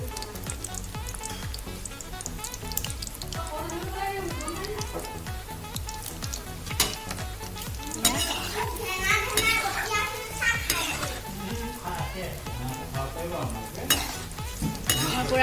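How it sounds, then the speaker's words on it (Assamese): Khurma sweet pieces sizzle steadily in hot oil as they are stirred and turned in a pan, with scraping and clinking of utensils; someone talks and children's voices are heard in the background. "মই পূৰা ৰঙচুৱা হোৱালৈকে ভাজিম।"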